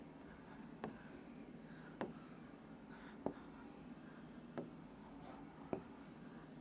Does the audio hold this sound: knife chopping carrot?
no